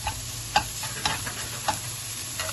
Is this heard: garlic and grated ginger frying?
yes